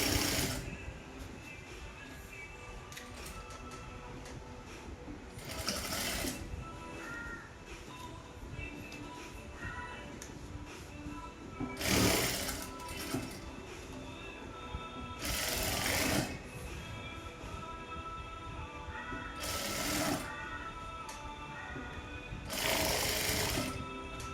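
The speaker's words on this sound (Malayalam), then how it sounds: "ഇങ്ങനെ സ്റ്റിച്ച് ഈ അറ്റം വരെ നമുക്ക് സ്റ്റിച്ച് ചെയ്ത് കൊടുക്കാം ഇലാസ്റ്റിക് വലിച്ചൊലിച്ച് കൊടുക്കാം" A sewing machine runs in several short, loud stitching bursts while elastic is sewn into the waistband of straight-cut pants, with quieter handling noise and someone talking between runs.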